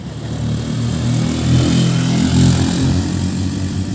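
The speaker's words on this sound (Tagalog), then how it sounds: "Ayan, ang mga motor. Ang bibilis." Motorcycles pass close by on a road at the foot of Mt. Matutum, their engines buzzing loudly and swelling as they go past, with no talking.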